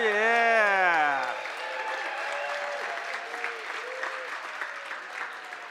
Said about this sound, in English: I'm going to take a video of you all. Start cheering.